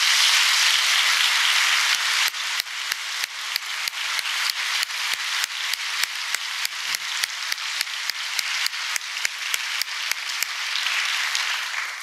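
A college audience at a State of the University address applauds steadily, a dense wash of many hands clapping, with repeated sharp clicks running through it.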